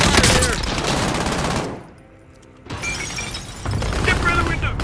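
Video game gunfire crackles in loud, dense bursts of shots, drops to near silence for about a second, then resumes with sustained rapid fire to the end.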